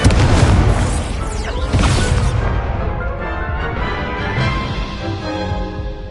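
A fire spell cast in the Hogwarts Legacy video game, a loud roaring whoosh and rumbling blast that surges twice in the first couple of seconds, then settles into a sustained crackling, fiery rush.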